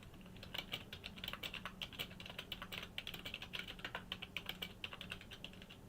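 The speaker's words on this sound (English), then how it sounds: "I forgot you guys can hear my my keyboard" Steady, fast typing on a computer keyboard, a quiet close-up stream of irregular key clicks running continuously with no talking.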